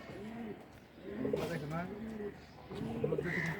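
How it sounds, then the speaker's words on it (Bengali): A male pigeon coos in repeated low, throaty rolling phrases, close and fairly loud, with soft background noise and a brief pause before the cooing resumes. "নর কবুতর।"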